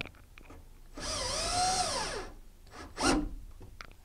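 A power drill drives a number 8 coarse-threaded deck screw into a fiberglass shower installation: one whirring burst of about a second that rises and then dips in pitch, followed by a short, sharp grinding buzz.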